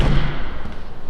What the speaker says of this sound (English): Yeah, that door shuts.